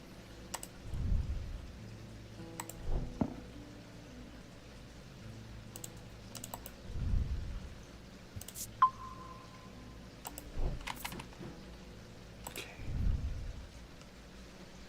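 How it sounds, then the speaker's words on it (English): Rain falls in a video game, a soft steady patter with occasional faint tapping and a brief tone, alone with no talk. "Oh wait, it's raining again."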